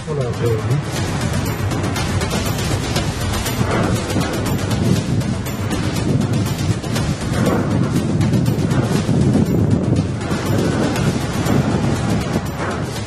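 A sandstorm's wind sweeps over a city in Rajasthan, a loud, continuous, roaring rush of gusting air without pause.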